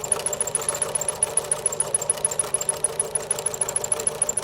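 A sewing machine backstitches along the lining of a fabric face mask, running steadily with a fast, even mechanical whir and rhythmic needle pulses, close and continuous for several seconds with no talking.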